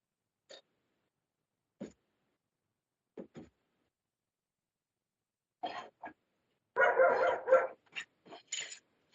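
A dog somewhere in a home barks through an online meeting's microphone, sounding as sparse single yips at first and then a denser burst of barks, all thin and compressed with quiet gaps between.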